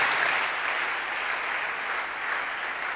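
Congregation applauding loudly in a church at an evening worship service, a dense steady wash of clapping filling the whole stretch with no voices.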